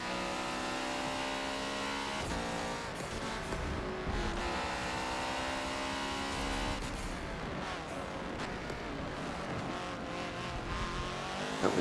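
In the Forza video game, a Porsche 919 race car engine screams at Daytona and keeps up a loud, continuous roar that shifts pitch as it revs through the gears.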